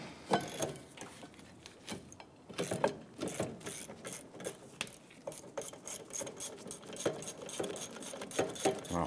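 A ratchet wrench loosens the upper caliper bracket bolt on a Ford Five Hundred, a quiet run of rapid clicking strokes with faint metallic clinks and no voices.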